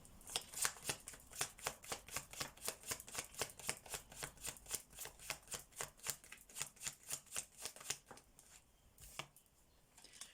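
Tarot cards are riffled and snapped in a fast, even run of crisp slaps, close and fairly quiet, trailing off into a few softer handling sounds at the end.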